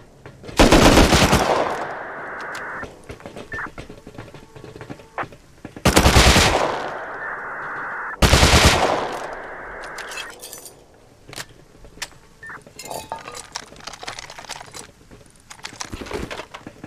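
Gunfire in the survival game Rust: three loud, long automatic bursts up close, separated by pauses, followed by fainter scattered distant shots and rattling.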